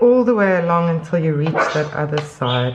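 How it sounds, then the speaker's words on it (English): A small dog gives a few short yaps in a home while someone crochets, the yapping half-buried under a woman's steady, close talking. "That's my dog having a little yap now."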